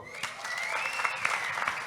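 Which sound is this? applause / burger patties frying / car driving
applause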